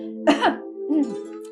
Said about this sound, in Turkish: Ne biçim öksürüyorsun öyle havlar gibi?